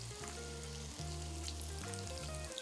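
Food fries in a pot with a steady, close sizzle through a vegan Senegalese stew recipe, the other side being turned to brown; a low musical hum runs under the crackle with no talking.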